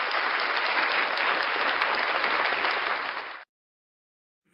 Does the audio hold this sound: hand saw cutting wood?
no